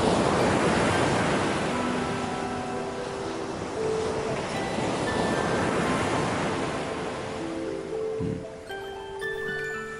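The Yellow River surges in a vast, steady roar of rushing water, broad and continuous, with faint tonal sounds drifting over it and a brief low thump near the end.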